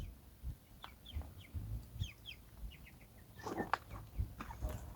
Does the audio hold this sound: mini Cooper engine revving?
no